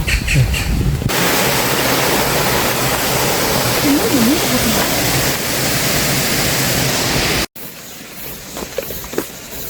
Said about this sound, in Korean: 마이산 올라가는 길에 계곡의 물소리가 시원합니다.